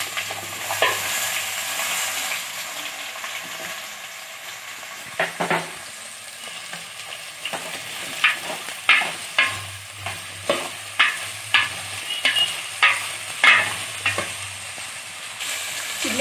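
Carrot, radish and onions frying in a hot pan for sambar, a steady sizzle with a rhythmic run of close, crisp spatula scrapes and knocks that grows more regular toward the end.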